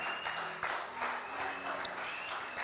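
A church congregation claps for the Lord in sustained, dense applause, many hands overlapping in a steady wash of clapping with no talk over it.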